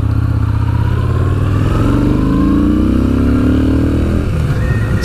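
A 2018 Yamaha SCR950 motorcycle engine rolling on the throttle, a loud, close, deep throaty rumble that climbs steadily in pitch as it accelerates, then eases off near the end.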